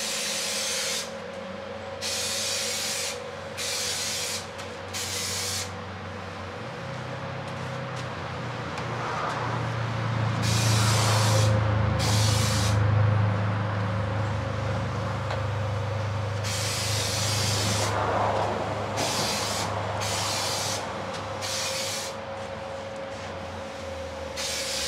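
A directional sprayer puts paint on the body of a Redcat RS10 RC Jeep, giving a continuous close hiss in bursts that stop and restart over a low steady hum.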